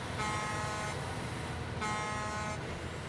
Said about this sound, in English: That's got a good horn